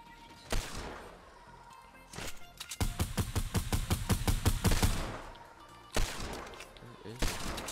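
Rapid automatic gunfire in a first-person shooter match, bursts of close, loud shots in a quick rhythm, with players talking over and between the volleys.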